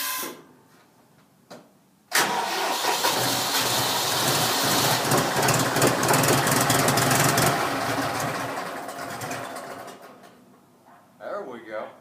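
A John Deere 5103 tractor engine cold starting: after a brief crank, the diesel catches abruptly and runs loud and rough for about eight seconds before settling and fading, heard up close with no talk over it.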